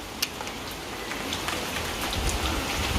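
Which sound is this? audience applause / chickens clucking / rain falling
rain falling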